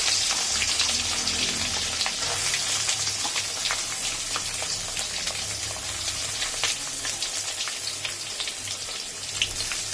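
Grated coconut sizzles steadily in hot oil in a pan, a continuous crackling hiss with no talking.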